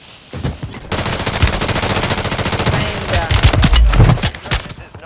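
A rapid automatic burst of Call of Duty gunfire rattles loud and close for roughly four seconds, each shot tightly spaced, ending with a few heavier impacts.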